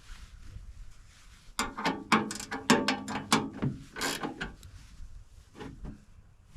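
A wrench ratchets in quick, uneven bursts of clicks while cranking down the mounting hardware of an LP tank cover on a Eurovan camper. The sound is close and fairly loud, with no talking.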